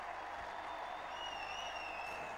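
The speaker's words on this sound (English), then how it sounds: "Everybody applauding it." Crowd at the New Zealand vs England first Test cricket match of 2001/02 applauds a big hit, a steady, distant wash of clapping heard faintly and continuously throughout.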